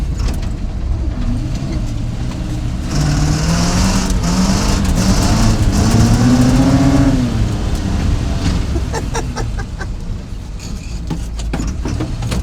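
A gasoline engine in an old GMC K20 pickup truck runs loud and rough with a diesel-like clatter, revving up and settling back while tires and exhaust roar close by, then easing off near the end.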